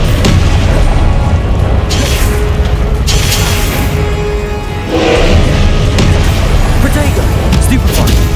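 Confringo blast spell explosions in the Hogwarts Legacy video game, loud booming bursts repeating every second or two over a dense rumbling battle backdrop, with a voice calling out spell names.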